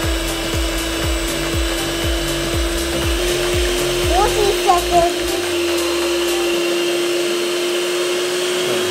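An electric mixer whirs through cake batter at home, its motor pulsing rhythmically with loud, close scraping in the bowl before it winds down and shuts off near the end.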